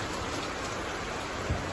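Afternoon rain pours down in a dense, even, continuous hiss at close range, with no voices and only a single small thud near the end.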